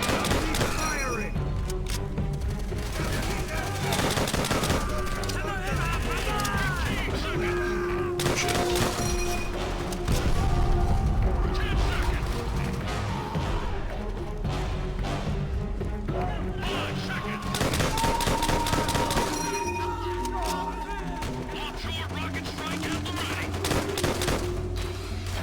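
Heavy gunfire in a Call of Duty game, near-constant loud bursts of automatic fire and explosions over about twenty-five seconds, with voices speaking intermittently underneath.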